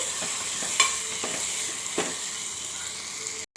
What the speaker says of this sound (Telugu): ఇప్పుడు మూత తీసుకొని ఒకసారి కలిపేసుకుందాము